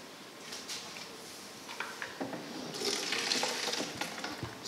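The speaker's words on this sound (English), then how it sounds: "I'll take this out and drain." Water pouring off a pot of boiled garden eggs (African eggplant) as it is drained at the side, a close hissing splash that grows louder midway, with scattered drips and clinks.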